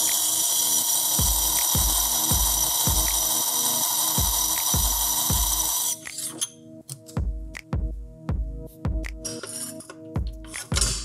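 A graver is sharpened against a spinning 260 grit wheel, giving a steady high grinding whine with repeated short scraping strokes in an even rhythm, close and loud; the constant hiss cuts out partway while the strokes continue.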